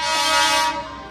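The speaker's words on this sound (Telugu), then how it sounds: "సో అదే మన సిద్దిపేట మెమో ట్రైన్ సిద్దిపేట నుంచి ఇప్పుడు వస్తుంది." A Siddipet MEMU train sounds its horn while arriving, a loud sustained toot held steady for most of a second before tapering off.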